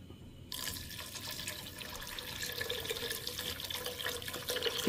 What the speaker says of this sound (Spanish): Le voy a agregar agua porque como las albóndigas las vamos a hacer caldito.